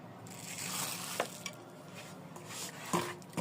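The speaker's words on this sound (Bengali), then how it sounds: "আমি টক দইটা দিয়ে ভালো মতন এবার মাখিয়ে নেব" Raw meat being worked together with sour yogurt for a home-style roast, giving soft, squelchy stirring with a few brief wet clicks and thuds, close and fairly quiet, with no talking.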